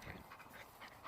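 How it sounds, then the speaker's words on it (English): A dog whimpers and pants restlessly nearby during an outdoor metal-detecting hunt for old coins, soft whines rising in short repeated bursts over steady breathing noise. "Dog's driving me crazy still."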